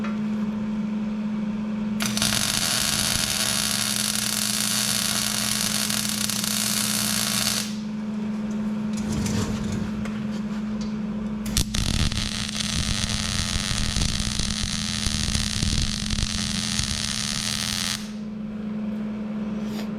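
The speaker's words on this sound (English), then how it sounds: "we're going to tack weld down here on the bottom on both sides to make sure it stays where it's supposed to" Tack welding a square steel tube on a trailer: two long bursts of steady, loud welding buzz and crackle, about six seconds each, separated by a pause with a few clanks and handling noise over a low steady hum.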